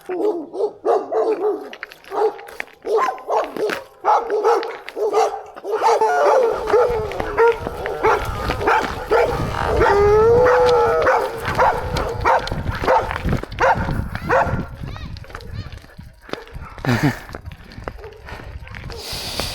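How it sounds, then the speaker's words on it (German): Several dogs barking and yipping on a road in Albania or Greece, met by a bikepacking cyclist, with loud repeated barks and some howling and whimpering from close by, mixed with talk. "wieder klassische Begegnung, Hunde, die bellen"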